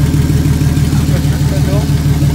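A turbocharged BMW E36 engine runs steadily at its first start without engine management, a loud, close, even mechanical drone with a regular pulsing beat and no breaks.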